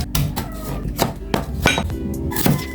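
A knife slices cabbage and carrot thinly on a board for fresh lumpia, giving a series of crisp, close chopping taps at an irregular pace.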